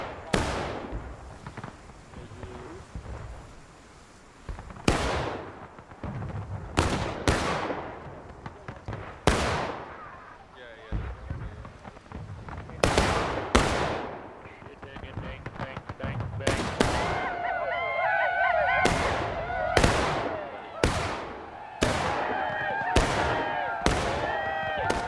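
Gunfire and artillery in a war video game set in a mountain campaign: repeated sharp shots and heavy blasts land in irregular bursts, close and loud, with radio-style voices calling orders between them.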